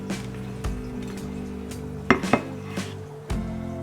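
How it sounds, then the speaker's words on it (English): A plate pressed down on plantain on a kitchen counter, giving dull thumps and a few sharp ceramic clinks spaced irregularly, with no talking. "I'm going to use downward force on the plate to press the plantain flat"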